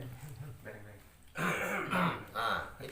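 A man clears his throat several times in quick succession, a repeated 'ahem' that a speaking voice may be imitating, close and fairly loud.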